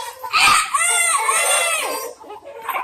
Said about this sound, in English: we're on a chicken farm